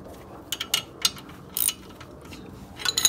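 A tool being tightened against a stuck brake rotor on a car: sharp metallic ratcheting clicks in short irregular bursts, close by, with pauses between.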